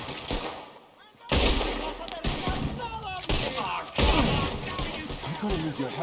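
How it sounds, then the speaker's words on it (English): Gunfire erupts in a Western fort battle in Red Dead Redemption 2, loud crackling volleys and overlapping shots filling the scene after a brief lull, with voices talking over the fighting. "Why are they all shooting at me?"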